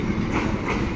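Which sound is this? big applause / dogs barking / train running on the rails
train running on the rails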